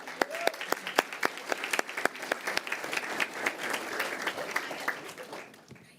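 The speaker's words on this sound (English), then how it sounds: "So please give them a round of applause." A meeting audience at a school board session breaks into a round of applause, with dense clapping that starts strong and tapers off near the end, no talk over it.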